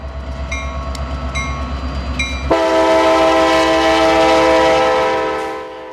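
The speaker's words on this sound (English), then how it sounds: "It's a wet rock train headed presumably back to a washer plant for another load." A CSX freight train of wet rock, pulled by EMD locomotives, rumbles by with rhythmic pulsing, then a loud, sustained multi-tone horn blares for several seconds before fading.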